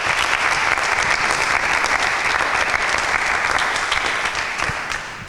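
Loud, dense applause from a Bible quiz show audience, a steady roar of many clapping hands that fades slightly in the last second.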